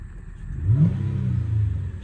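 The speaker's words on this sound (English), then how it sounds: "I'm going to give it a very quick rev" A 2004 Nissan Elgrand van's V6 gets a single quick rev, the engine sweeping up sharply then settling into a low, thumping idle, close and alone.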